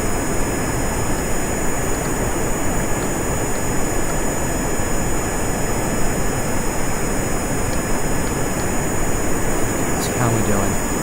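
Steady, modest jet engine hum from a small aircraft in the Kerbal Space Program video game, a continuous broadband roar holding even and fairly loud throughout, with no talk over it.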